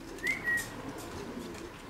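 Pigeons coo softly near a racing loft during a competition flight, with a couple of short coos and a faint whistle-like note over quiet background.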